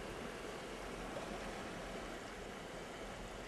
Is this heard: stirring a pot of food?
no